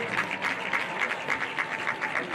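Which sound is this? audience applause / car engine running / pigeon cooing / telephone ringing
audience applause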